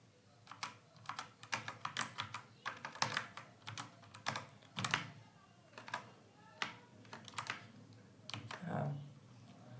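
Bursts of keystrokes on a computer keyboard as C++ code is typed, quick clusters of crisp nearby clicks separated by short pauses, fairly quiet, with no speech.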